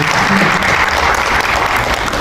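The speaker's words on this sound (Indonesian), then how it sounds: "Tepuk tangan bapak ibu" Attendees at an Umrohkuy soft-launch presentation clap together, a loud, close, continuous burst of applause lasting a couple of seconds.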